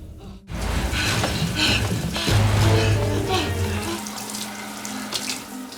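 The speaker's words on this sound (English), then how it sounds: "The shower stream turns to blood, freaking Selena out" A shower in a TV drama scene runs as a steady hiss of spraying water across the whole stretch, with faint vocal sounds underneath.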